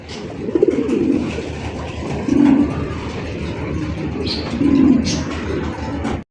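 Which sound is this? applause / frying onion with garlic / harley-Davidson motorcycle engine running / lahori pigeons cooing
lahori pigeons cooing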